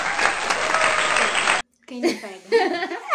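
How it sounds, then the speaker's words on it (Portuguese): A crowd at a Brazilian entertainment show breaks into loud, steady applause that fills the first part, then cuts off abruptly, followed by close voices talking and laughing. "Palmas, palmas."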